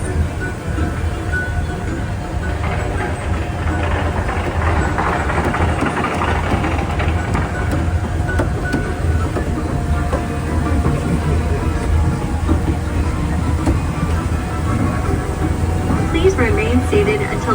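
Hersheypark monorail running during a holiday ride, a steady loud hum of motor and ventilation with low rumbling throughout, heard from on board.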